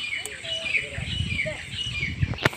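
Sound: bird chirping near its nest

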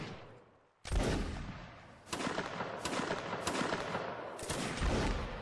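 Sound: musket line volley firing in video game Napoleonic Wars

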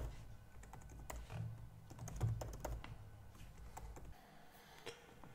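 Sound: typing a password on a computer keyboard

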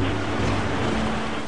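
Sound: tsunami waves hitting the coastline

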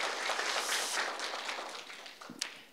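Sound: applause welcoming a church member

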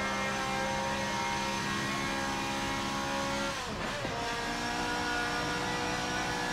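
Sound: racing car engine accelerating in Forza Motorsport 7 video game

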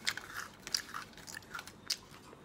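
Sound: biting crunchy vegetable snack

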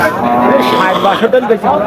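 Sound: cow mooing at cattle market

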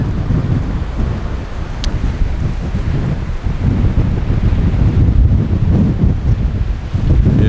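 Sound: strong wind at the New Zealand coast

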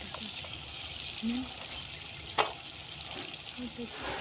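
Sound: small cabbage manchurian balls frying in hot oil

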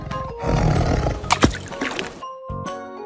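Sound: tiger roaring

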